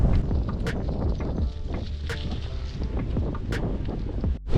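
Steady wind buffeting a microphone while riding a gravel bike, with low rumbling gusts, a constant roar with a few brief clicks on top.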